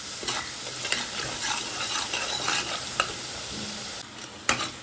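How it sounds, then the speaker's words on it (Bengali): Spice paste with Kashmiri chili, salt and sugar is stir-fried in a pan: a continuous sizzle under brisk scraping strokes, broken by a few sharp utensil clacks against the pan. "সমস্ত উপকরণ ভালোভাবে আমি কষিয়ে নিচ্ছি।"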